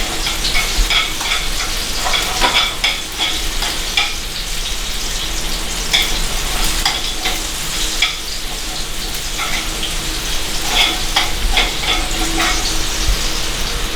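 Garlic cloves fry in a pan with a steady, dense sizzle that crackles and spits throughout, with occasional sharper pops, close and fairly loud with no talking.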